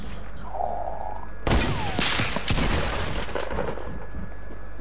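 Gunfire in the Fortnite video game, a sudden dense burst of rapid shots and booms after a quieter hum, continuing as scattered cracks, loud and close, with no talking.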